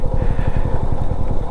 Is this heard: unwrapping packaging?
no